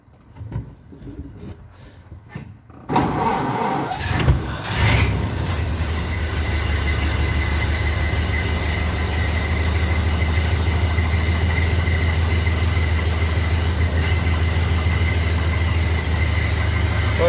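A Model A Ford pickup truck engine cranks over in a few short bursts, catches, and settles into a steady, loud, low idle that runs on alone.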